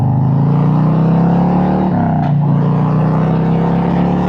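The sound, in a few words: Harley-Davidson Road Glide 2025 motorcycle accelerating with strong wind noise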